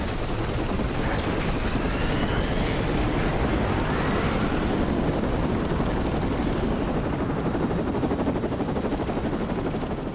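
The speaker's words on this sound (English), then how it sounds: "I'm not sure a helicopter with a jet engine on the back would necessarily be a good idea." A helicopter with a jet engine on the back in Cyberpunk 2077: Phantom Liberty, its rotor thumping in a constant rapid chop, loud and close overhead, with a faint engine whine above it.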